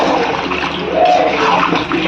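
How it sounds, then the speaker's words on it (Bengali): Cooked mutton poured from a pressure cooker into a pan of fried masala, a continuous close sloshing, splashing pour of meat and liquid. "এরপর এই কুকারের মাংস এর মধ্যে ঢেলে দেওয়া হলো।"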